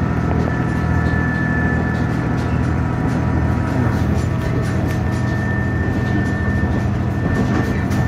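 A train runs steadily from Ichinoseki toward Matsukawa, with a constant loud rumble and a faint high whine heard from inside the carriage, no voices.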